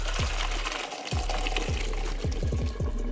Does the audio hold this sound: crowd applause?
no